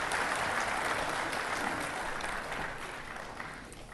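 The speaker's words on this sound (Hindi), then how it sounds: "बहुत जोरदार ताली बजा के स्वागत करें।" Audience at a special Lok Adalat week closing ceremony applauds loudly and steadily, a dense wash of clapping that slowly tapers toward the end.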